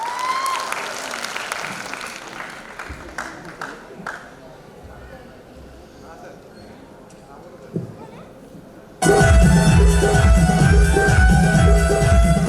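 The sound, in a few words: audience applause at Corps Day celebration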